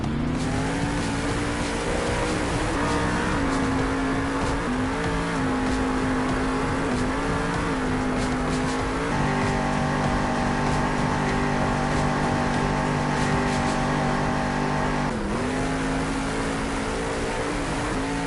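Monster truck engine at a Monster Jam stadium show in Salt Lake City, revving loud and continuous with rising and falling pitch as the throttle shifts, a sustained mechanical roar throughout.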